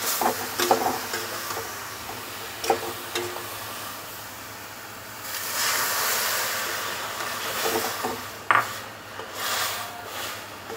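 Water poured into a stirred cooking mixture in a pan, giving a soft steady hiss that swells in the middle stretch, with occasional stirring clinks and scrapes and no talking.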